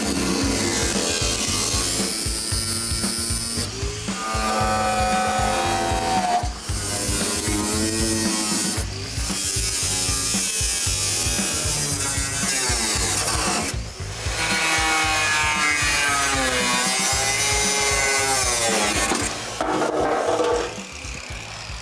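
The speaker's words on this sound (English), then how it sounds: "I'll probably just end up using a cutoff wheel, and then we'll grind it smooth with a flap disc" A cutoff wheel grinding through metal on a 1972 C10 truck, a loud, steady abrasive whine that rises and falls in pitch as the tool bears down and eases off, running continuously with brief dips.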